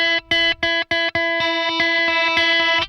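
Two guitar strings struck in turn as the high string is tightened to match the other, a quick series of ringing plucks that settle into a sustained, close, bright tone with no talking.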